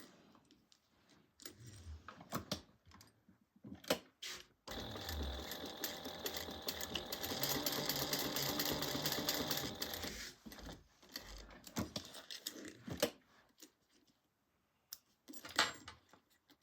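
Sewing machine stitching down the end of a webbing strap on a bag, a steady continuous mechanical run of about six seconds, close and moderately loud, framed by brief handling clicks and knocks before and after.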